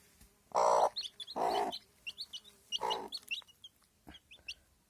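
A hen clucks low a few times while her newly hatched, day-old chicks peep in rapid, high, scattered chirps nearby.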